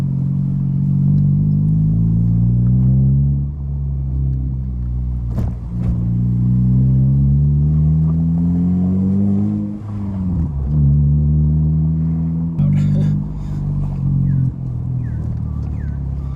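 A 2015 Honda Civic Si fitted with an Invidia N1 exhaust drones heavily inside the cabin at about 1500 RPM, a loud, steady low rumble that rises and dips slightly with throttle.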